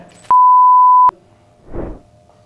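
A loud, steady electronic censor beep, a single pure tone lasting under a second that cuts over speech, with muffled talk briefly before and a soft murmur after.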